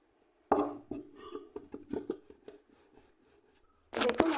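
Paratha dough balls are rolled out with a rolling pin, making a series of soft, close knocks and thumps in an irregular rhythm, then a louder, denser clatter at the end.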